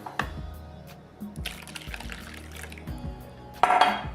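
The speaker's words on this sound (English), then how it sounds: "after 3 minutes, add the rest of your water." Water splashes and trickles into a pot with light clinks of cookware, ending in a louder, fuller pour near the close.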